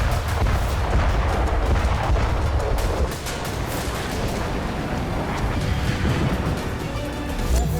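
Israeli airstrikes on Iranian sites in Lebanon produce a dense, rumbling roar of explosions, with heavy low booms and crackling bursts overlapping continuously without pause.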